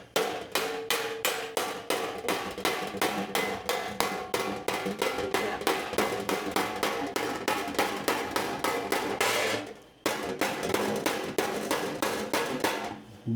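A hammer shapes a sheet metal patch panel for a 1965 Thunderbird, striking in a brisk, regular series of sharp metallic blows; a brief pause interrupts the close, loud hammering before it resumes at the same pace.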